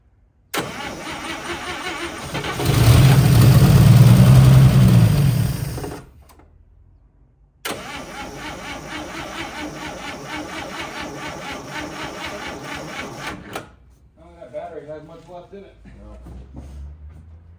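A 1955 Chevy that sat parked for 40 years cranks loudly for several seconds, stops, then cranks again in a long steady burst without catching, followed by faint talk.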